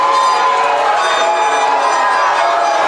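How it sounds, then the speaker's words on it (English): A high school football crowd in the stands keeps up a loud, continuous roar of booing and shouting that stays dense and unbroken throughout. "I hear the crowd booing for some strange reason"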